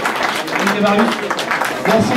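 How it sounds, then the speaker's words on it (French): Brief applause for a volunteer team, clapping running under a speaking voice throughout. "faut les applaudir"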